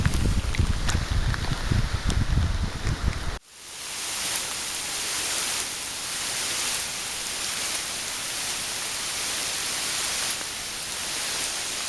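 Heavy rain pours down at a wilderness campsite, a broad steady hiss that follows a brief busier stretch of close handling sounds and continues unbroken to the end.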